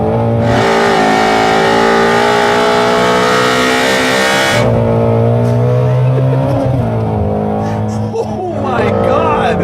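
A powerful engine from a 2016 Ford Mustang Shelby GT350R or 2015 Chevrolet Camaro revs hard and loud, climbing to a high-pitched scream, then dropping back to a rumbling idle with small throttle blips.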